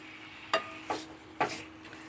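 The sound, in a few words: chilli chicken frying in oil with pepper powder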